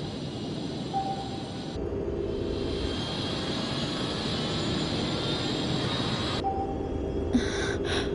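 A steady low submarine engine drone with a faint whine, its tone shifting slightly partway through, continuous and fairly loud.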